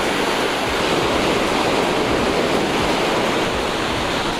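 Ocean surf rolls onto a Sarasota, Florida beach in a steady, loud wash of breaking waves with no pauses, close by and heard on its own.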